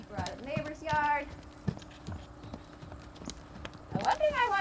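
Hooves of a horse trotting on a lunge line thud in an even, repeating rhythm nearby, with a voice talking over them at the start and end.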